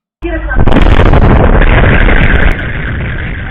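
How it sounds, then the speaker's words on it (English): A sudden, very loud blast followed by a sustained roaring rumble of multiple explosions landing very close, harsh and close, staying intense for several seconds. "Multiple explosions landing very close to where these people are at."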